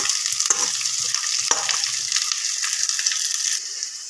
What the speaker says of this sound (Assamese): এতিয়া মই ইয়াতে আলুখিনি দি দিলোঁ। তো এইটো লৰাই থাকিব লাগিব